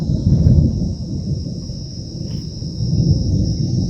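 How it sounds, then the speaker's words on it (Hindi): A low rolling rumble of thunder from a storm over a hillside planted with trees, steady and broad with swells near the start and end, heard alone with no talk. "बादल हैं, बिजली कड़क रही है"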